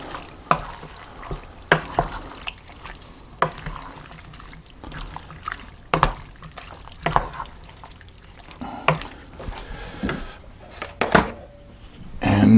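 Crushed whole canned tomatoes stirred in a pot for Manhattan clam chowder, giving a series of close, wet, sloshing and squelching strokes at an uneven rhythm with brief pauses between them.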